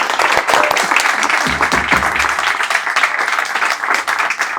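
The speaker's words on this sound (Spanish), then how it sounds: "Fuerte aplauso." Audience applause, a dense burst of clapping from a crowd at a talk, loud and sustained for several seconds.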